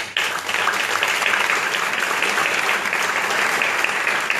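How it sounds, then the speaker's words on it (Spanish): Audience applause at the closing and awards ceremony of the FICIC 2018 film festival, a dense, steady wash of clapping from a large crowd that continues evenly throughout. "Así que gracias y un aplauso."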